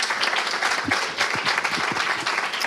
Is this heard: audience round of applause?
yes